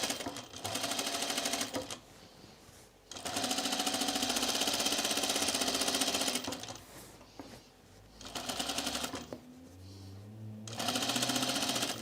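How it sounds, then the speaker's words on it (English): Several close, loud runs of a sewing machine stitching a dress seam, each burst a dense rapid whir lasting one to three seconds, separated by brief pauses with faint handling sounds. "I hold this down and then I let the machine kind of pull it forward, kind of stretch it for me."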